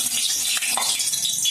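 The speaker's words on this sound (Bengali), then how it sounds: "তেল গরম হয়ে গেছে, এখন মাছ কটা ভাজবো।" Fish frying in hot oil gives a close, steady bright hiss and sizzle with small crackling pops, heard alone without talk.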